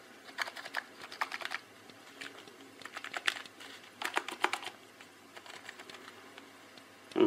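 Typing on a Trust GXT 280 non-mechanical computer keyboard, with quick bursts of soft keystrokes separated by short pauses, close and fairly quiet, with no voice.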